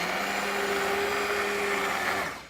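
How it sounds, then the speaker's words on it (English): An immersion blender whirs through a pot of simmered pumpkin and white bean soup with a steady, even motor drone that holds constant and then tapers off at the end. "take an immersion blender and carefully blend the soup"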